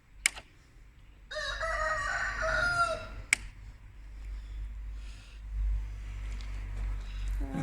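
A rooster crows once, loud and close, inside a chicken coop, between two sharp knocks, over a steady low rumble.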